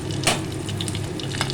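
Black cumin, a slit green chilli and bay leaves hit hot oil in a kadai and sizzle steadily up close, with a brief sharp crackle at the start.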